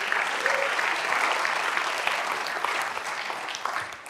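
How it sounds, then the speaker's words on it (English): An audience applauds at a motivational talk, a dense, sustained wash of clapping that continues for about four seconds without fading. "You can applaud that"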